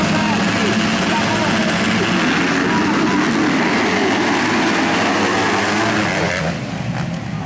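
Many motocross motorcycle engines rev loudly together at an MXGP race start in Umarizal, Brazil, in a dense, continuous buzzing roar, with an announcer's voice faintly mixed in.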